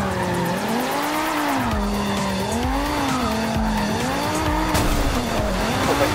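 Racing game car with wheels spinning and tyres squealing, a loud continuous engine whine rising and falling in pitch as the tail slides out, sustained throughout.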